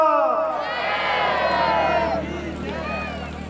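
A crowd at a Sufi darbar in Lalauda, Tohana, Haryana shouts a jaikara for Baba Sidh Maharaj, many voices rising together in a loud, sustained cheer that eases slightly toward the end.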